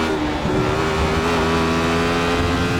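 A Radical SR8 race car lapping the Spa circuit, its engine holding a loud, continuous high-pitched drone close to the microphone with steady throttle and no break.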